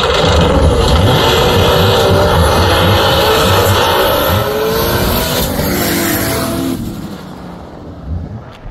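A drag race car launching at full throttle down the strip, a loud roaring engine scream with rising pitch that dominates, then fades away into the distance near the end.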